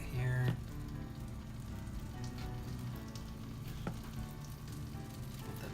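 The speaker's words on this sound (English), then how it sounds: "And then we're gonna let this guy cook." Cardamom French toast sizzles steadily in a hot pan, a continuous close frying hiss with light crackle running the whole time, with a brief clatter near the start.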